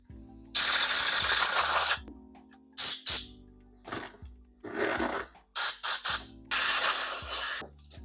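Compressed air sprayed over Suzuki TS 125 R carburetor parts, in several loud hissing bursts of uneven length, separated by short clinks and handling noises.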